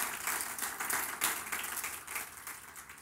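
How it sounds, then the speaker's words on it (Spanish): A church congregation applauding together, dense and sustained clapping that swells and fades slightly over a few seconds, with no speech over it. "Un aplauso al Señor por esa palabra preciosa."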